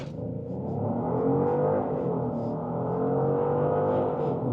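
2026 Genesis GV70 luxury SUV launching from a standstill, engine and road noise heard from inside the cabin rising steadily as it accelerates hard, a moderate continuous drone with no talk.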